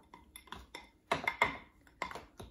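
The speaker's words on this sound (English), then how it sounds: "I am just going to mix it" Sushi rice being stirred with seasoning powder, giving a series of close scraping and clinking utensil-on-bowl sounds in irregular bursts, with louder strokes toward the middle and no talking.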